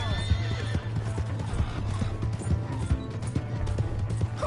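Horse galloping in Red Dead Redemption 2, with rapid, loud clip-clop hoofbeats driving throughout, a whinny breaking in near the start and faint game chatter behind.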